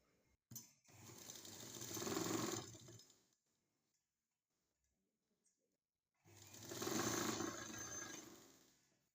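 A sewing machine stitches the lining edge of a silk skirt in two steady runs of buzzing, whirring motor and needle noise, each lasting a couple of seconds, with a quiet pause and faint clicks between them.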